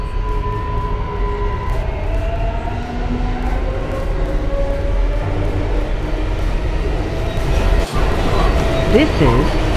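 A New York City subway 4 train bound for Eastchester–Dyre Avenue runs steadily, with a loud constant rumble, wheel and motor whine rising in pitch, and a brief screech near the end.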